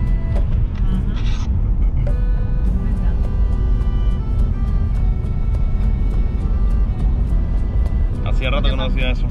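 A 1949 or 1953 Chevrolet classic car drives around a neighborhood, its engine a steady low rumble throughout, close and loud, with people talking over it.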